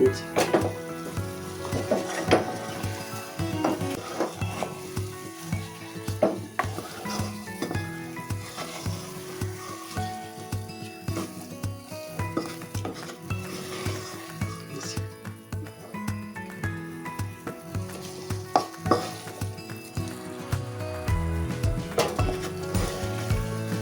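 Chana dal halwa stirred in a pan with ghee: a continuous soft sizzle with repeated scraping and clinking of a spoon against the pan, close and steady throughout.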